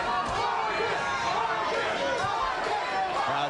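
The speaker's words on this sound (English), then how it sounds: "Crowd chanting Vargas, Vargas" Boxing arena crowd at the Fernando Vargas vs Winky Wright fight, a dense steady roar of many voices rising in chant-like surges throughout, loud and continuous with no single voice standing out.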